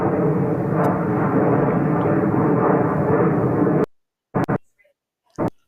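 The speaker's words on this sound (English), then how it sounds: "This aircraft is a Mitsubishi CRJ-900LR and is 14 years old." A Delta Connection Mitsubishi CRJ-900LR regional jet, 14 years old, arriving at JFK, makes a loud, steady close jet roar that cuts off abruptly, followed by brief sharp bursts of noise.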